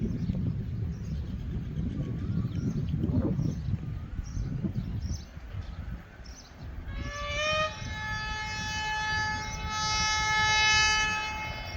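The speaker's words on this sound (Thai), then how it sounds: "มาแล้วครับขบวน 416 นะครับ" Passenger train number 416, running about ten minutes late, passes a temporary station behind Lotus in Khon Kaen, rumbling loudly and close before a long, steady multi-tone horn blast sounds over the rolling wheels.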